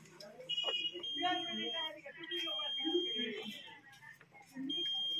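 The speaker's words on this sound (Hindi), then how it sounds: "देखिए अभी बीप का साउंड आ रहा है" Continuity-mode beep from a multimeter while testing the CDI coil of a Pulsar NS160 motorcycle, a sustained high electronic tone that sounds steadily under someone talking, cuts out briefly and then returns.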